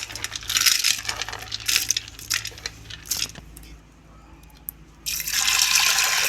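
Chana dal lentils washed in water clatter and slosh in a vessel in loud rattling bursts, then go quiet for a moment before the splashing and grainy rustle start again, close up.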